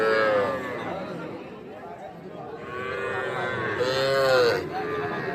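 Cattle at a busy livestock market moo in long, loud calls, one near the start and a bigger one toward the end, over the steady chatter of a crowd.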